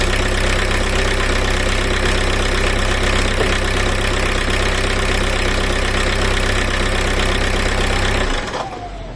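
A car engine idles steadily and loudly after being started with a Lidl jump booster and no battery, a continuous rumbling drone that cuts off near the end.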